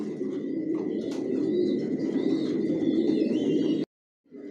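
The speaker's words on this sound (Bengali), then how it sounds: "টপ কোয়ালিটির কবুতর পালি" Imported racing pigeons coo in a loft, a dense, close chorus of low burbling coos with a few chirps overhead, running steadily before a brief silence and then resuming.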